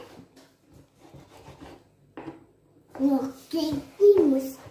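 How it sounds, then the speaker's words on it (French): A knife slices small olives into rounds on a board while making bread, giving faint, quick rasping strokes at low volume, followed by a child and an adult talking nearby. "Alors on les découpe en rondelles comme ça, en petits morceaux."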